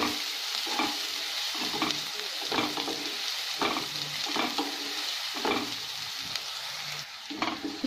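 Onion frying in oil in a pan while making mix veg kofta curry: a steady, close sizzle with repeated scraping stirs at an even rhythm, no talking.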